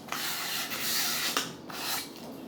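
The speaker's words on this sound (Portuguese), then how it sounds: "A minha eu vou lixar aqui onde eu considero que está mais grosseiro," Sandpaper rubs the rough edges of a painted wooden box in a close, steady rasping with a few stroke changes, quiet and alone without talk.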